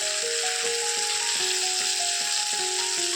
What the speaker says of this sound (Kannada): ನೋಡಿ, ಆಲ್ಮೋಸ್ಟ್ ಫ್ರೈ ಆಗಿದೆ ಒಂದು ಸೈಡು.